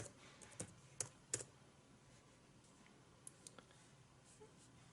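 Faint, sparse key taps on a Chromebook keyboard: a few light clicks close together, then a pause and another short cluster of taps, quiet and without talk.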